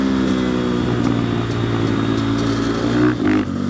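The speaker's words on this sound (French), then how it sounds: "J'aime trop faire péter ma moto au rétrogradage." KTM supermoto motorcycle engine running steadily up close, a loud continuous exhaust drone with a brief burst of crackle and pops near the end as the rider downshifts.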